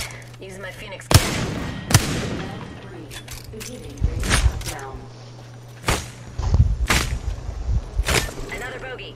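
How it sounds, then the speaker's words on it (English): A Phoenix cannon fires in a sci-fi space-combat game, giving several sharp, loud booming blasts spaced a second or two apart over steady engine hum and game effects, with a voice talking between the shots. "Using my Phoenix cannon"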